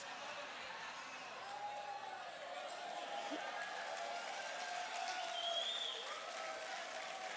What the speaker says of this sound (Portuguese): Primeira vez que eu sou vaiado e aplaudido ao mesmo tempo.